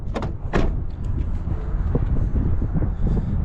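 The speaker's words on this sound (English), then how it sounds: "It's very windy here." Cold wind blowing outdoors in Wind Gap, a steady rough buffeting rush against the microphone with a few sharp knocks early on.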